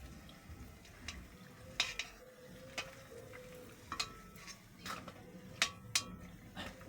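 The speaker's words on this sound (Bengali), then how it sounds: "বড়াটাকে আমি সেট করে এই যে তেলটা ঝরে এই যে নামিয়ে নিচ্ছি" A fried bora fritter being lifted out of hot oil and set to drain, with soft clinks of utensil on pan, light sizzling and scattered drips over a low kitchen background.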